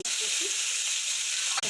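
Cumin seeds and dried red chilli crackle in hot oil, a steady bright sizzle that holds loud and even for over a second before a brief clatter near the end.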